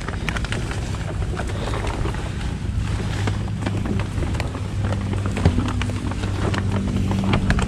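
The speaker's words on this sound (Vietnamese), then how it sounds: "Mưa gió quá, dừng lại hả ngoại?" Steady rain and gusting wind outdoors near a small hut in rural Vietnam make a loud, unbroken roar with no voices heard.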